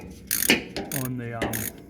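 A 10mm ratchet works loose bolts on a Ford Courier pickup, giving a few short metallic clicking bursts close by, with someone talking in between.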